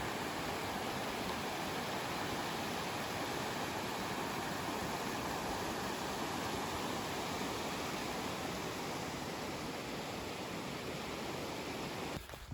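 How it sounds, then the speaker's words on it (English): Water running down a mountain stream on a summer morning in the Cairngorms, a steady broadband rush of flowing water that fills the scene evenly and continuously at moderate level, with no voices. "You can just hear the water running down."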